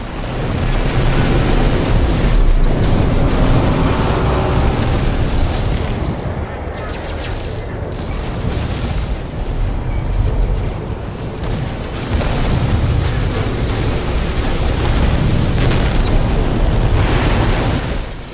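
Cannons on an S-Class pirate dreadnaught freighter in No Man's Sky fire and explode in loud, thunderous booms that roll almost without pause, a dense, continuous barrage that dips briefly midway and then builds again.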